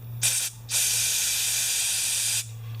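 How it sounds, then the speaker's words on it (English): An aerosol spray can squirts onto a Craftsman 6.5 hp engine that won't run, giving a short hissing burst, a brief pause, then a long steady close spray hiss over a low hum. "It should squirt out of there just like it comes out of the can."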